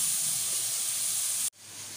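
Tomatoes sizzle in hot oil with a loud, steady frying hiss that cuts off abruptly, then a softer hiss slowly returns.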